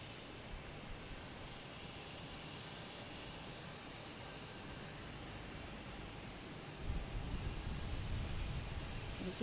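A Delta jet arriving from Edinburgh at Boston Logan Airport sounds as a faint, continuous engine rush that grows louder and fuller in the last few seconds.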